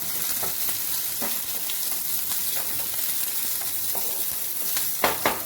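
Shrimp sizzle steadily with green chillies in a hot pan, a dense close frying hiss broken by occasional spatters and stirring clicks, with no talking.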